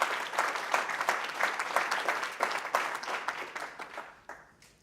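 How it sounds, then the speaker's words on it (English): Conference audience applauding steadily, a dense wash of many hands clapping at moderate distance that thins and fades out toward the end. "So give yourself a round of applause."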